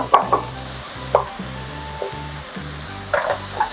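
Pad thai ingredients stir-fry in a hot pan with a steady, close sizzle, punctuated by a few sharp scraping and clattering knocks from stirring, over a low rhythmic hum.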